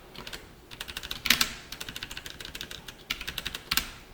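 Code typed on a computer keyboard: quick clusters of crisp keystrokes with short pauses between bursts and a few heavier key presses, close and clear, with no voices.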